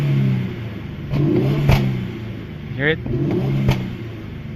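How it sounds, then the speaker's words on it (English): An Infiniti Q50 engine with stock exhaust rumbles at idle, with a few sharp exhaust pops cracking out at intervals, and a voice speaks briefly between them. "this is the pops and bangs for the Q50"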